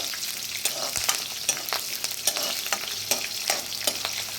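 Cut green chillies and two dry red chillies fry in hot oil in a pan for pulihora, with a steady soft sizzle broken by repeated scraping stir strokes.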